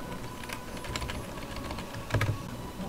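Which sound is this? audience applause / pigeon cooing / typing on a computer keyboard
typing on a computer keyboard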